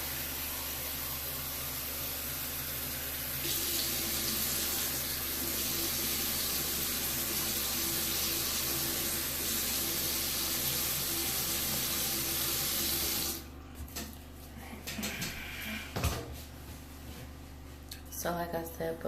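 Water gushes steadily from a tap into a sink as a loud, continuous hiss for about thirteen seconds, then cuts off, followed by quieter handling sounds.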